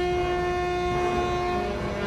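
A big train passes nearby, its horn sounding as a loud, steady tone that holds for the whole moment over a rumbling rail roar.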